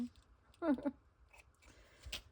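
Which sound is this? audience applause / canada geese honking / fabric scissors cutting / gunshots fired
fabric scissors cutting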